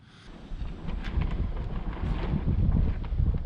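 Wind gusts over a sawmill shelter roof being fitted with standing seam metal roofing, a rising, steady rumbling buffet with microphone wind noise and faint scattered rattles, no voices.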